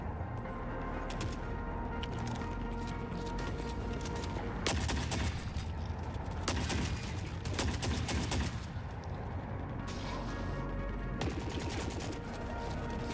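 Gunfire in The Forever Winter, including shotguns, erupting in dense overlapping bursts of sharp cracks and rapid fire, loud and sustained across a chaotic battlefield with a constant low rumble beneath.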